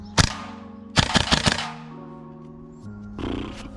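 A gun fires in semi-automatic: one loud shot, then a quick run of several shots, each ringing out with an echoing tail outdoors.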